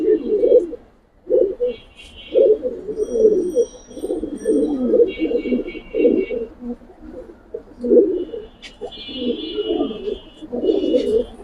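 Giribaz pigeons in a loft in Old Dhaka coo steadily in low, throaty phrases, with a few thin higher chirps scattered over the continuous cooing.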